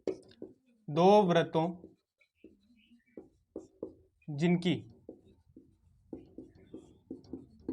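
A pen writes out a geometry question about two circles on paper, making short, quiet scratching strokes in an irregular rhythm, close by, with a voice speaking briefly twice in between.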